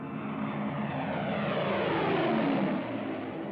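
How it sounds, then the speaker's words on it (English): Propeller-driven warplanes take off from a wartime Tunisian airfield in 1944, their engines a loud, continuous droning roar that swells slightly and then eases, with no voices heard. "our planes took off to tackle the Luftwaffe"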